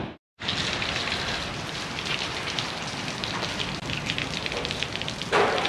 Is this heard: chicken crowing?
no